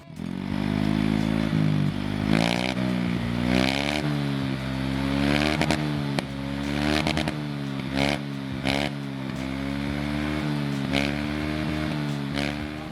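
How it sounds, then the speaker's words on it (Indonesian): A motorcycle with a Proliner racing exhaust revs repeatedly, its loud, raspy roar rising and falling in short blips over a continuous throaty idle. "itu tadi bang, buat suara si knalpot standar racing"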